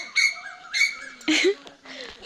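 A human voice imitates bird calls, giving a short series of bright, whistled chirps and squawks in separate bursts, close and fairly loud, with brief pauses between them.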